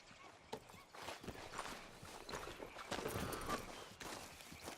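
Horse hooves clip-clop at a steady walking pace in Red Dead Redemption 2, close and continuous over a bed of ambient outdoor game sound, with an occasional snort and no talk.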